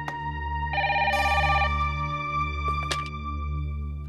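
A telephone rings on a call placed to a home in a TV drama scene, with electronic ring tones sounding in short bursts over a steady low background hum, and no voices.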